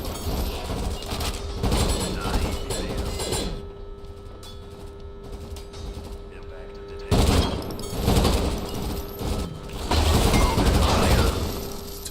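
Gunfire from a gun in SYNTHETIK 2: loud rapid bursts of shots with mechanical clatter, pausing briefly in the middle before firing resumes, with a player talking over it.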